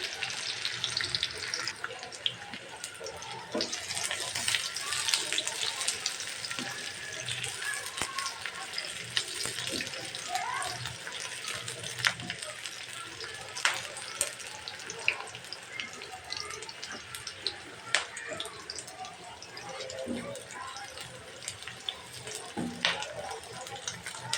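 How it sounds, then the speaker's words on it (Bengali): Chopped onions and cinnamon hit very hot oil for a chicken curry, giving a continuous hissing sizzle that holds steady at moderate volume, with occasional small pops and crackles. "তেলটা আমার অতিরিক্ত গরম হয়ে গেছে, এই জন্য ঝটপট দিয়ে দিচ্ছি।"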